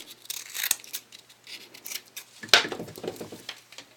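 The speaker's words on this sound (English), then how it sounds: "This is where your scissors come in handy, as you can cut into it" Scissors cutting material for a homemade tactical rail, giving a few close, crisp snips and rustles with quiet gaps between cuts.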